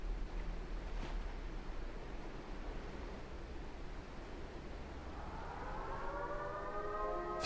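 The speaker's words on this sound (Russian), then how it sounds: "Вой сирены же при взрывах, они сказали, будет." A civil defense siren in the video game Life Is Strange: True Colors begins its wail late, rising steadily in pitch over a constant rushing, rumbling background noise, with nobody talking.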